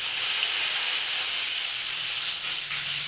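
Two bay leaves fry in hot oil in a kadai with five-spice seeds, giving a loud, steady, close-up sizzling hiss that barely varies, with no talking.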